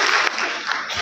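Applause from a ceremony audience welcoming Acharya Devvrat at a student-felicitation event, a short continuous patter of many hands clapping, steady and fairly loud throughout.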